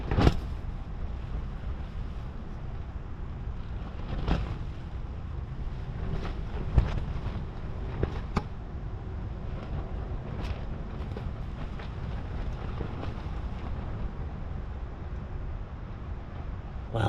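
Strong wind blows at 4:30 in the morning around a stealth camping spot, a steady rumbling roar buffeting the microphone with scattered gusts and knocks throughout.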